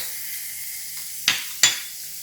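Chopped carrot dropped into a pan of hot melted butter for cheese pasta, a steady sizzle with two quick bursts as spoonfuls hit the pan, close and fairly loud.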